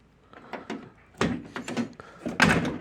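Sagging door of a first-generation Chevy S10 truck being worked open, a series of clunks and thuds from the door and latch, growing louder toward the end, close up and without speech.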